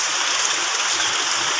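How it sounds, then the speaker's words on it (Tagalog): Heavy rain pours steadily during typhoon Agaton, a dense, loud, unbroken hiss of water falling without wind. "hindi na po huminto yung ulan kahapon, papuyag ng ulan hanggang ngayon"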